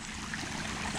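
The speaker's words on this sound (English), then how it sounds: "It's just dripping underneath the old pine tree." Water dripping and trickling beneath an old pine tree outdoors with no rain falling, a steady soft wash of drips and flow with no voices.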